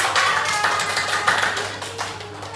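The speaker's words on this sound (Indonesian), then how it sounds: "Kita beri tepuk tangan." A third-grade primary school class claps hands together in a classroom, a dense, steady burst of many hands clapping at once, close and loud, with no talk over it.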